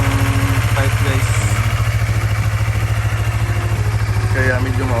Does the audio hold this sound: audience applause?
no